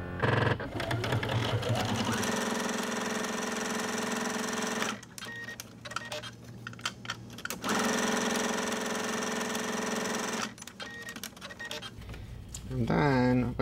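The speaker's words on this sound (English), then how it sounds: "Now I'm gonna take this over to the sewing machine, get some stitching on." A sewing machine runs in bursts, stitching two 2-by-6-inch fabric strips with a quarter-inch seam for a holiday stocking, its steady mechanical whir stopping and restarting several times, close and loud.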